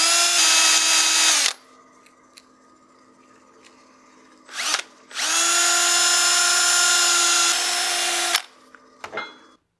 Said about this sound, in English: I think I'll sand just a little bit more here in the center,